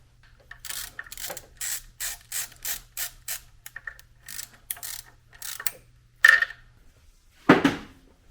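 A hand ratchet clicks in quick, evenly spaced bursts while bolts are tightened on a BMW E36 convertible, close and fairly quiet, followed by a couple of louder knocks near the end.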